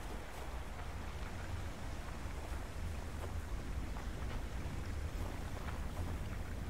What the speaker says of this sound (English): There's that wind.